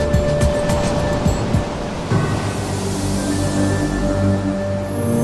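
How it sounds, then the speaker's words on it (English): Ocean surf rolls and breaks on a shore where a large swell is running, a steady broadband wash with surges, loud and close, with no voices. "So the waves were really good."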